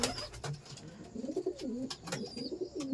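Pigeons, including Giribaz and Madras breeds, coo softly in a breeding-pair room in low, rolling calls that overlap, with faint chirps and flutter nearby in an otherwise quiet space.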